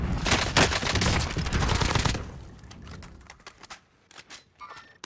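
Rapid bursts of automatic gunfire from Call of Duty: Warzone rattle loudly and densely for about two seconds, then thin into scattered, quieter shots and impacts.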